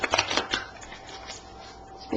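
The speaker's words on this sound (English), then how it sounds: "I always shuffle all these before I start my readings" A deck of tarot cards is shuffled by hand, with a few quick papery riffling bursts followed by softer sliding and flicking, close and without speech.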